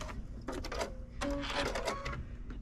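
A sewing machine back stitches binding on a tote bag in short, close, rapid clattering bursts with brief gaps between them.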